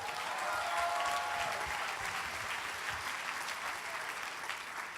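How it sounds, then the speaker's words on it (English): A large conference audience applauds continuously at moderate distance, a dense steady wash of clapping hands that holds for several seconds without a break. "Give yourselves a round of applause."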